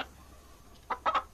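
Chicken clucking in the Guild Wars 2 video game: a few short, quick clucks arrive near the end of a quiet stretch, fairly faint, with no talking.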